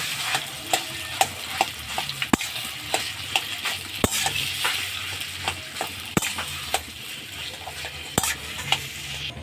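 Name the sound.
stirring mashed potato and green jackfruit frying in a pan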